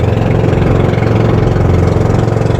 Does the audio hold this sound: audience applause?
no